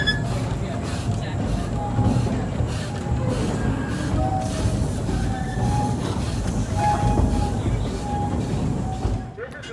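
Steam locomotive 361 hauls its train through a forest at a steam and power show, a steady rumbling roll with faint whistle-like tones drifting over it, fading out at the very end.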